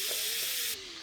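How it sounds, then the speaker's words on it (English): Food searing in a hot pan in a home kitchen gives a steady, close broadband sizzle that drops slightly quieter near the end, with no talking. "Oh, we like that little sizzle."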